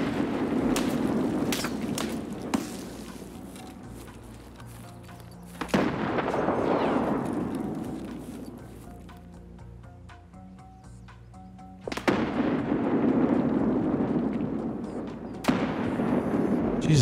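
Grenade blasts and gunfire in the shooter game Escape from Tarkov, with F1 grenades: sharp bangs followed by long rumbling booms and decaying echoes, several loud impacts spaced across the stretch.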